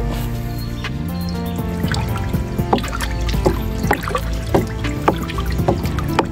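Thick rice-washing water being stirred into a liquid jakaba organic fertilizer mix, giving close, continuous sloshing with irregular splashes and drips, without any talk over it.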